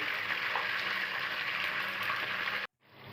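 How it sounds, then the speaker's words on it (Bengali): Pieces of meat for a roast fry in hot oil until golden brown on both sides, making a steady close sizzle that cuts off abruptly near the end. "এরকম গোল্ডেন বাদামি কালার করে আমি হচ্ছে দুই পাশে ভেজে নিচ্ছি"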